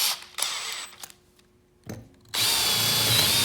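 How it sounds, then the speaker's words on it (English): A paddle bit drills into wood in short bursts, the drill starting and stopping twice before a final steady, loud whine of cutting that fills the last second, close and alone with no talk. "I'm always going to start out drilling with my larger paddle bit"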